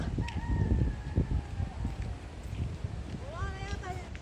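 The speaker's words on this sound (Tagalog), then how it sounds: "Na maraming manok. Ayun, putak ng putak." Chickens cluck and a rooster's crow carries from nearby over rumbling background noise, with short calls scattered across a few seconds.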